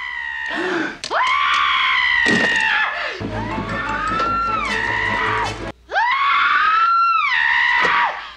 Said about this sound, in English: So when Yvette is screaming here, they're just reusing Miss Scarlett's screams from throughout the movie.